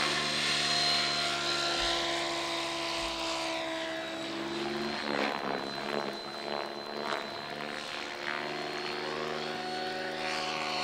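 A model helicopter flying a 12-point spin-out manoeuvre in a 3D competition intermediate set, a loud steady high-pitched turbine-like whine with rotor drone that wavers and pulses as it turns, close and continuous without talk.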